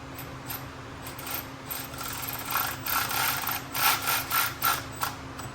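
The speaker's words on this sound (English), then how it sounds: "Just switching out to my Milwaukee, just a lot quicker than a ratchet." Short bursts of a Milwaukee cordless power tool snugging a bolt on an idler pulley and tensioner of a Ford Grand Marquis, rising in intensity toward the end, close and fairly loud with a steady low hum underneath.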